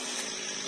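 A chainsaw cuts a large branch off a rain tree in a backyard garden, a loud, continuous, close-up roaring buzz.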